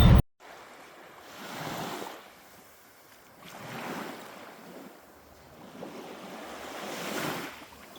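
Sea waves washing onto the beach at Kranevo on Bulgaria's northern coast, three slow swells rising and receding over steady wind noise, with no voices.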